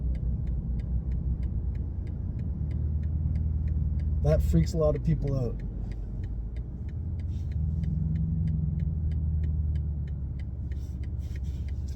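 A 2023 BMW XM parking itself, heard as a steady low engine and road hum with a regular ticking indicator running throughout, while a person talks briefly over it partway through.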